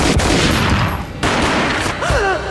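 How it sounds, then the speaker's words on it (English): A gunshot booms in the Max Payne video game, a sharp loud blast followed by a brief burst of further shots, with a short tonal whine near the end. "The shot boomed and she fell down in slow motion."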